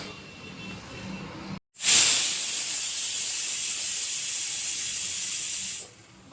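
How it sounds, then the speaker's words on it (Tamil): A pressure cooker bursts into a loud, steady hiss of escaping steam while minced meat curry cooks, holding constant for about four seconds before cutting off. "குக்கர் ப்ரெஷர் வந்துருச்சு."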